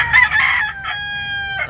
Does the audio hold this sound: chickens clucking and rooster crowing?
yes